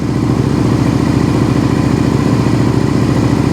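A Suzuki SV650 motorcycle engine runs at a steady idle after its carburetors have been synced, a loud close-up pulsing thrum with light mechanical clatter.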